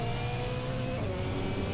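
Race car engine in the Assetto Corsa racing game, a steady droning engine note holding a sustained high rev, loud and continuous with no talk.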